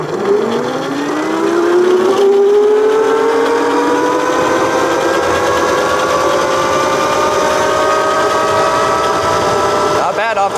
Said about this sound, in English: So now that we've gone over all the features of the Yozma IN, let's take it out for its first ride.